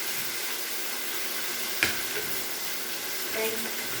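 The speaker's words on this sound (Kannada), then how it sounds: "ನೋಡಿ ಇವಾಗ ಈರುಳ್ಳಿ ಹಾಕ್ತೇನೆ ಟೊಮೊಟೊ ಹಾಕ್ತೇನೆ" Chopped onion and tomato fry in oil in a pan, with a steady close sizzle and hiss throughout, briefly broken by a stirring clatter.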